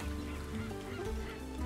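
Bird honking in the video game A Hat in Time, a steady goose-like honking call that holds through the whole stretch at moderate level, with game background sound and no talk.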